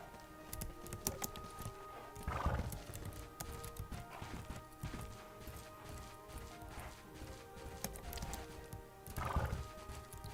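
In the Bella Sara video game, a horse whinnies several times over steady clip-clop hooves, with light keyboard-like tapping beneath, moderately close and fairly quiet.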